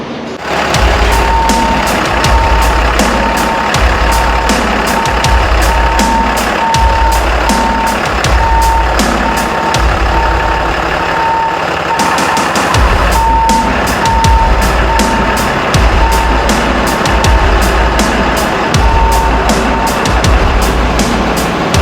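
An off-road wrecker truck, newly fitted with tires and wheels, drives loudly nearby with a rough engine rumble while a repeating reversing beep sounds throughout.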